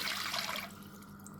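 A Hydor aquarium filter draws water in with a steady close rushing, gurgling wash that changes character partway through, ending in a faint hiss.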